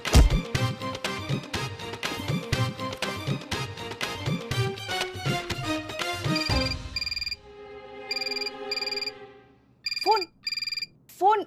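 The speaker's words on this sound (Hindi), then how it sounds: "फोन बज रहा है," Music with steady beats plays in the TV series Madam Sir, then stops, and a telephone rings in repeated short electronic bursts with gaps between them.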